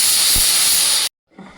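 A pressure cooker holding khichdi lets out a loud, continuous hiss of escaping steam that stops abruptly, followed by a brief quieter murmur.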